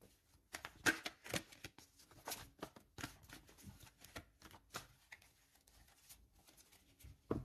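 A deck of cards shuffled for a tarot-style reading, heard as repeated soft riffling bursts and slaps in quick irregular rhythm, close and fairly quiet, with no talking.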